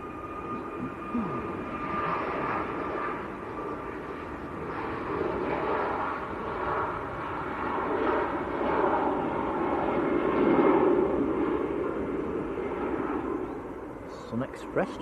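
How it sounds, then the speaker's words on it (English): SunExpress airliner taking off from Manchester Airport, a steady broad jet engine roar that builds slightly and holds throughout, with a person talking over it. "Sun Express just blasting off."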